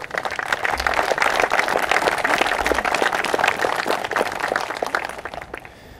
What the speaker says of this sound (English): We owe him a round of applause